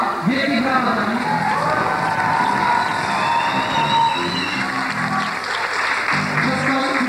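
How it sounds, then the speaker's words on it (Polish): A crowd at a lively event applauds steadily, with cheers, whoops and shouting voices mixed into the continuous clapping, loud and close throughout. "Wielkie brawa dla nich."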